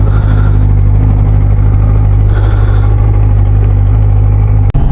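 A car engine runs steadily and loudly up close, with a low, constant hum and slight rises in revs. It is carrying an Insta360 camera fixed to a pad, and a sharp knock sounds near the end.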